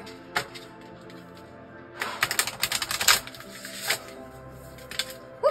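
Tarot deck being shuffled by hand, with a short riffle followed by a denser burst of rapid papery card flicks and snaps, close and loud with no talking.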